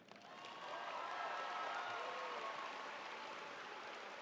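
A large audience at a Warhill High School graduation ceremony breaks into steady, sustained applause, heard at moderate distance as a continuous wash of clapping with a faint murmur of voices underneath.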